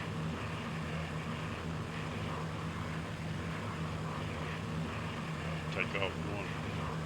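A small propeller airplane at takeoff gives a steady, loud droning engine roar with a constant hum throughout, heard from inside the cabin.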